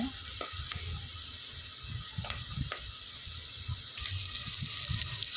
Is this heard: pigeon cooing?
no